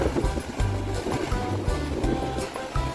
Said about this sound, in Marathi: डेंजर लाट आहे, डेंजर.